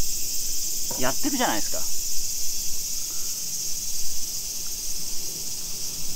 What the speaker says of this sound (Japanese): セミも鳴いてんじゃないですか